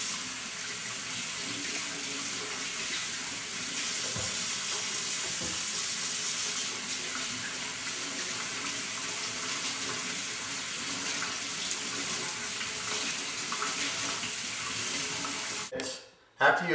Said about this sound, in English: you should wash your hands in warm soapy water for a few minutes to increase the blood flow to your fingers